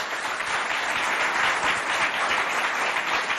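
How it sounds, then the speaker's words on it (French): A school quiz contest audience claps together in a dense, even burst of applause that holds steady for a few seconds without talk. "Si vous êtes contents, applaudissez bien fort pour vous."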